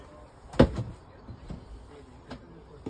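Door of a 2024 Benimar Tessoro 488 caravan swinging shut, one sharp close near the start followed by softer knocks in a quiet interior.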